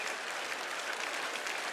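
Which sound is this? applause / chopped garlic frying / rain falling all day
applause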